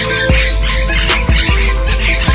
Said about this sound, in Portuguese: O periquito de papo branco se camufla entre as folhas, mas a gritaria não deixa dúvidas